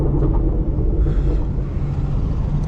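Ford Mustang with a Whipple-supercharged Coyote V8 rumbles steadily at a deep, loud, close drone on a drive, with no talking.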